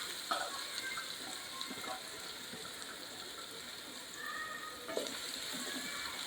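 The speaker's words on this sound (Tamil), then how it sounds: "இதுவும் நல்லா பொரியட்டும்." Fenugreek seeds fry in hot oil for a Tamil-style dish, giving a quiet, steady crackle and sizzle with a few faint scraping stirs and no voices.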